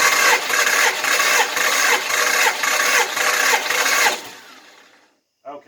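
A 318 engine cranks during a compression test on cylinder 7, with about nine even, loud starter pulses that then cut off into near silence, followed by a short clatter at the end.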